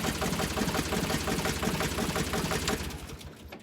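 A Ditch Witch trencher engine, just repaired, runs steadily with a rapid mechanical clatter, loud and close throughout before easing off slightly at the end.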